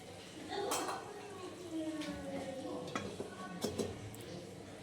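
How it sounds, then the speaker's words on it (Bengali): Two sharp metallic knocks as a lid goes onto a cooking pot of fried brinjal and potato on a low flame, over a faint sizzle and some quiet talking. "গ্যাসটা সিম করে দেবো, দিয়ে এটাকে ঢাকনা দিয়ে দেবো।"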